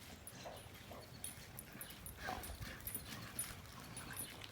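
An adult dog named Chardonnay and a puppy tussle over a toy, giving soft whimpers, yips and low growly play noises close by over a steady faint background hum.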